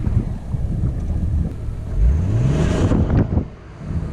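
A BMW 330d E92 diesel engine cranks and catches, rising into a low rumbling idle with a brief rev, recorded close outdoors with some wind buffeting and no talking.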